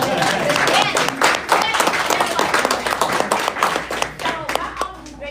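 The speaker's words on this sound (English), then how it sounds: "Give a round of applause" Applause at a Perry Township Democratic Club meeting, a lively burst of many people clapping close and loud, with uneven crisp claps that gradually thin out, and a few voices mixed in.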